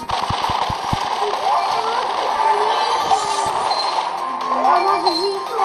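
Video game gunfire crackles in quick bursts, with a rapid run of sharp shots at the start and scattered reports after, mixed under game sounds and a talking voice.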